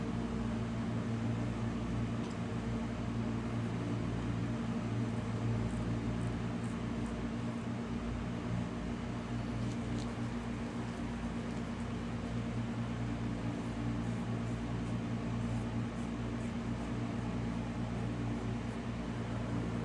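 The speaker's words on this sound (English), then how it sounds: "Sorry about that fan. I know it can be annoying to hear in the background," An electric fan hums steadily throughout, a constant whirring drone with a low tonal buzz and no other sounds.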